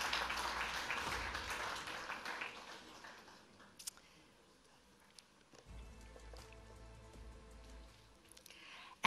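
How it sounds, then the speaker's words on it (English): Scattered applause rises from the room at a live cricket player auction after a sale, a soft patter of clapping that fades out and gives way to quiet murmuring. "A round of applause."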